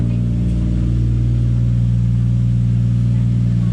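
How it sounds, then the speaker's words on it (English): A 2JZ-GTE engine in a Nissan 180SX idling after sitting unused for six months, a loud, steady, low rumbling hum with no pauses. "Man, I haven't started this thing in 6 months. Went straight to an idle."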